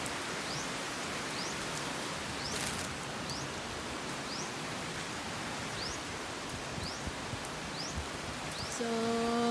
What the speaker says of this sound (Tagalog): medyo mahina ang ulan, hindi naman ganun kalakasan